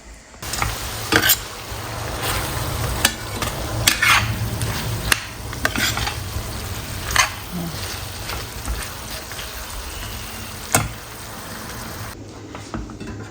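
Tadka of cumin and mustard seeds sizzles and crackles steadily for boondi raita, with broadband frying hiss and scattered sharp pops and utensil clinks throughout, fairly close and loud.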